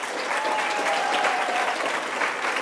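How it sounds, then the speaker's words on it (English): Sustained applause from the audience at a 2018 Toronto mayoral debate, steady clapping throughout with no talking over it. "Thank you for your applause."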